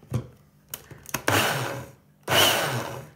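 A powerful blender grinds frozen aloe vera gel cubes in two loud bursts, the first running a little under a second, then a pause before a second roaring burst, with a few knocks and clatters beforehand.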